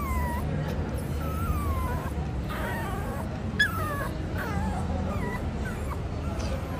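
A pet dog in a pet-friendly hotel in Baguio whimpers in a series of thin, rising and falling whines, fairly close, over steady background noise with no clear talk.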